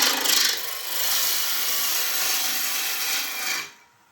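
A lathe spinning at about 1500 RPM takes a heavy cut into wood, giving a loud, continuous rasping, scraping roar that drops away sharply as the cut ends.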